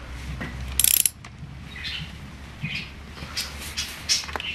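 Crankcase cover bolts being tightened in a crisscross pattern with a ratchet, giving a short burst of close metallic ratcheting clicks followed by quieter scattered clicks and handling sounds, with no talking.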